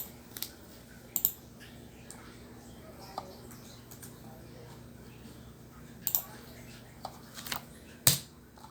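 Sparse clicks of keys on a computer keyboard during a networking lab, a few isolated taps and short clusters, close and quiet over a low steady hum.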